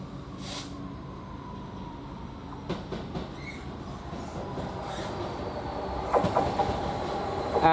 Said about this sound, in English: this is going to be a GBRf train on the class 66 as well